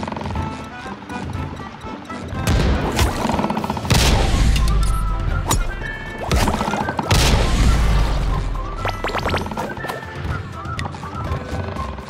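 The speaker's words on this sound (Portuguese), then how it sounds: "Esses canhões velhos ainda dão pro gasto, né?" Several heavy booming cannon blasts from old cannons go off a few seconds apart, loud and close, over a busy layer of game sound effects in SpongeBob SquarePants: The Cosmic Shake.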